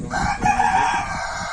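Chickens cluck and call close by on a farm where they are fed fresh grass, with a steady, busy run of short calls over the full moment.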